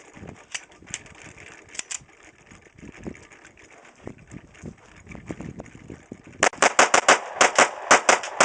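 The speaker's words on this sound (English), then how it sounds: "I'm going to do 10 rounds rapid fire with the compensator on there" A 1911 pistol with a bushing compensator fires ten rapid shots, the sharp reports bunched in a fast, loud burst near the end after quieter handling sounds.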